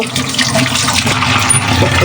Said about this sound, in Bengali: হালকা গরম পানি দিয়ে একটু ধুয়ে নেব